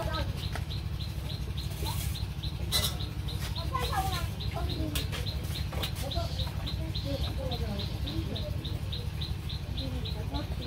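Chickens and ducks in a village coop, with scattered clucks and bird calls over a constant low hum and background noise.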